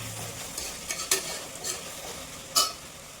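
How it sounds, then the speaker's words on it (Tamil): Onions sautéing in a pan for egg biryani, with a soft steady sizzle and a few sharp scraping stirs of a spoon against the pan. "வெங்காயம் நல்லா வதங்கட்டும்."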